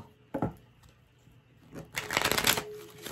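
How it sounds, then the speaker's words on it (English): Cards being shuffled in two bursts: a short riffle first, then a longer, louder flurry of crisp flapping and clicking, close by and with no talking. "All right, one more shuffle"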